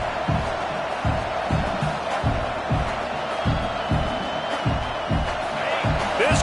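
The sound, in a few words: stadium crowd noise in College Football 25 video game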